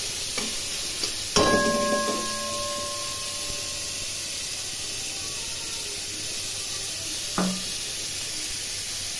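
Spices frying with salt and turmeric in a pan, a steady close hiss of sizzling oil with a couple of sharp metallic clanks of a stirring utensil.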